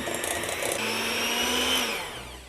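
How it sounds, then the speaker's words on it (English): An electric mixer whirs steadily through peanut butter icing for low-carb brownies, a close, even motorised whine that eases off toward the end. "Now we're gonna mix this all together to make our peanut butter icing."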